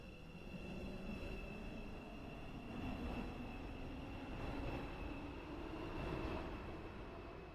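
A train rolls through Stepford East station in a railway video game without stopping, a steady loud rumble and rattle lasting throughout with a faint high whine over it, and no voices.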